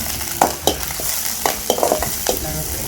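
Dried chillies, onion and curry leaves fry in hot oil for a chicken curry, a close, loud sizzle broken by quick scraping stirs every half second or so, with no voice.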